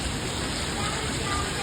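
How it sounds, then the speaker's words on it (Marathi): Steady rain falling outdoors on a cold day at a hill station, an even, continuous broadband hiss with no breaks and no voices. "थंडी तर थंडी, त्यात पाऊस सुरू झालाय"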